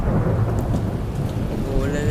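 Steady heavy rain pours down with a low rolling rumble of thunder beneath it in an animated scene, continuous and fairly loud, with a faint whistling tone rising near the end.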